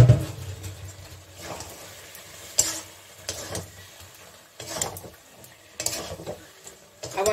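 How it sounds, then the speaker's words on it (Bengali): A spoon scrapes and stirs spiced jackfruit curry in a pan with a little added water, giving faint sizzling and irregular scraping strokes at close range. "আমি এখানে আবার অল্প জল দিয়ে আবার একটু কষিয়ে নেব।"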